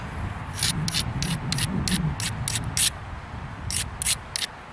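Base of a mookaite flint-knapped stone point is ground against an abrasive, producing a close, steady gritty rubbing broken by a run of short, sharp scraping strokes in a regular rhythm.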